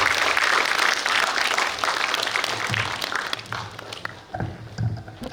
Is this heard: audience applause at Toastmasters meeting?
yes